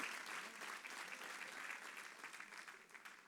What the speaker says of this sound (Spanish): ¿Usted no cree que eso merece un fuerte aplauso?